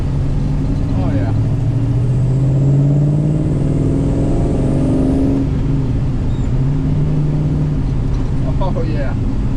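A 1966 Pontiac GTO engine driving and shifting gears, a steady loud road drone with a rising pitch that drops at the shift and then climbs again, heard from inside the car over continuous road noise.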